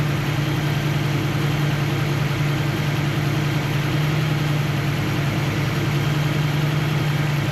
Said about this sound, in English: I can hear the RPM speed up as I turn these